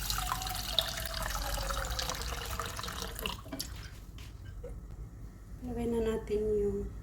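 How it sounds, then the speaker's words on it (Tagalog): Cold water runs from a tap and splashes into a pan while lasagna white sauce is being cooked, a steady faint pour that tapers off, followed by a brief clink and rising water tone near the end. "Lagyan natin ng malamig na tubig."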